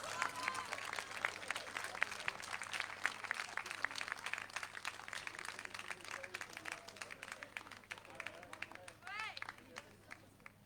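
Audience applause at a 2021 Ultra Marin raid and trail awards ceremony, sustained clapping from a crowd over a PA-voiced announcement, with cheering and talk mixed in throughout.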